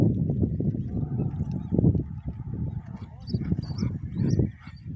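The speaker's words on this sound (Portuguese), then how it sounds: "Bastante galinha d'água," Common moorhens calling at night near the water on a night fishing trip: repeated honking, clucking calls in uneven bursts, fairly close and loud, with a voice talking intermittently among them.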